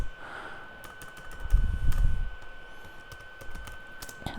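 Bursts of clicky keystrokes on a computer keyboard while typing C program code, sparse taps with a denser cluster midway, close and moderately loud over a faint steady hum.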